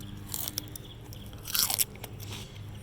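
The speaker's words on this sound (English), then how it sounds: "And I have fresh celery. I can just pick some and eat some" Fresh garden celery snapped with a crisp crunching bite, then chewed in a few quieter crunches, close up and with no talking.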